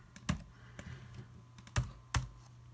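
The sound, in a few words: typing a command on a computer keyboard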